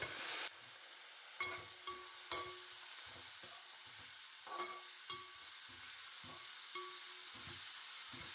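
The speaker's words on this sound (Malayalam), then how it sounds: "ബീൻസ് ഇട്ട് കൊടുക്കാം." Green beans tipped into a hot pan for a Kerala vegetable stew, with a steady soft sizzle and repeated short scraping stirs of a spoon against the pan, fairly quiet and close.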